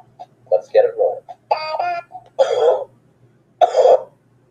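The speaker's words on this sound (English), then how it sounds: "cover your mouth when you cough" A person coughs and clears their throat in short, raspy bursts between stretches of talking, the coughs close and fairly loud during a Friday Night Funkin game session.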